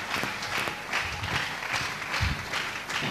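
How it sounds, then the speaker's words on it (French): A church congregation applauding during a sermon, with sustained loud clapping from a crowd filling the room, dense and steady, with a few heavier thumps underneath. "Nous acclamons très fort pour le Topeti maboko makasi."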